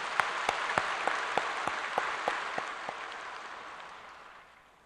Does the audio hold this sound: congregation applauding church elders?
yes